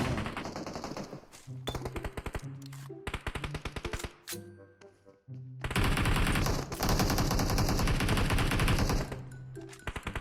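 Rapid bursts of automatic gunfire in PUBG Mobile rattle loudly over a low drone, with sustained long volleys after a short lull and heavy echoing thuds.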